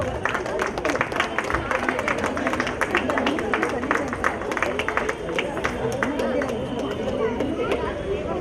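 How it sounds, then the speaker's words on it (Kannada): A crowd at a Rajyotsava prize distribution claps steadily for the first-prize winner of a slow cycle race, with dense overlapping chatter running under the applause throughout. "ವಿಶಾಲ್ ಅವ್ರಿಗೂ ಕೂಡ ಒಂದು ಜೋರಾದ ಚಪ್ಪಾಳೆ."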